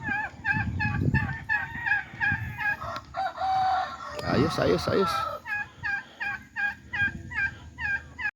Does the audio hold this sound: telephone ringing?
no